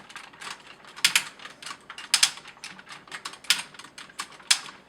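The waist swivel of a MakeToys Utopia toy robot clicks through its ratchet in several bursts of rapid, sharp plastic ticks, close and crisp with short pauses between turns.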